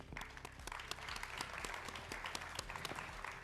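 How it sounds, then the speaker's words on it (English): Applause at a motocross awards ceremony in Darwin, Australia: a steady, dense patter of many hands clapping, fairly quiet and sustained throughout, with faint crowd noise. "Another round of applause, please."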